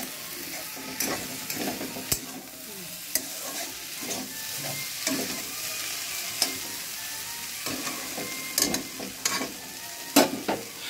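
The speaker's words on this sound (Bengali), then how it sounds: "বেশ হালকা ভাজা ভাজা মতন হবে এটা।" Sweetened peas filling for kochuri fries in a pan while a spatula stirs it, a low continuous sizzle punctuated by regular scraping and knocking strokes against the metal, close up with no voices.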